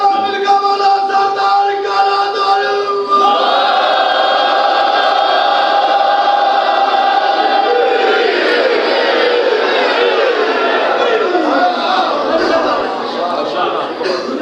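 A large crowd chants religious slogans in unison at a Ghadir sermon gathering, a loud, sustained wall of massed voices that swells and shifts for the whole stretch without pause.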